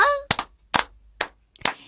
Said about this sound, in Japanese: 皆さん手拍子お願いします